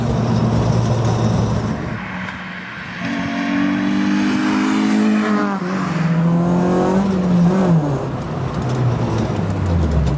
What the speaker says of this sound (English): a little peppy, naturally aspirated, high revving engine